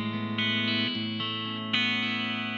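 Clean electric guitar played through an amplifier's clean channel one with built-in reverb: sustained notes and chords ring out one after another, close and steady, with no talking.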